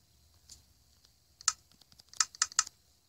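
Keys clack on a computer keyboard while typing during a Minecraft Pocket Edition session: a few sparse taps, then a quick cluster of sharp clicks near the end, close and fairly quiet with no talking.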